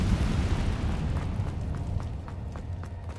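Incendio fire spell in the Hogwarts Legacy video game roars as a heavy, sustained burst of flame, loud and rumbling near the start and slowly easing, with faint crackling pops scattered through it.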